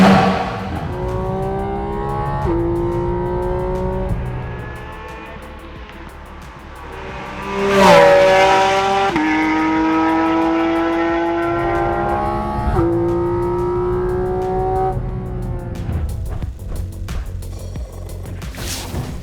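Porsche 718 GT4 RS fitted with a Dundon exhaust and 935-style tips, loud and close, revving through rising and falling engine notes with a sharp surge midway and sustained harsh exhaust roar throughout.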